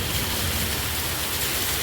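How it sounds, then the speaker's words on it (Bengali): Heavy rain in Saudi Arabia pours down as a dense, unbroken roar of water that stays loud and even throughout, with no voices heard. "দেখছেন ভারী বৃষ্টি বর্ষণ হচ্ছে ইনশাল্লাহ"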